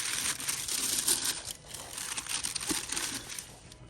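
Cellophane plastic wrap crinkles and rustles close up in a steady run of bright crackles, with no talking.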